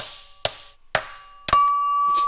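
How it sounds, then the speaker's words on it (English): Three sharp, ringing metallic hammer taps strike a seal press to seat a bushing, spaced evenly about half a second apart. The last strike leaves a sustained metallic ring. Close by, with no talk. "I'll grab the hammer, seal press, and tap it in."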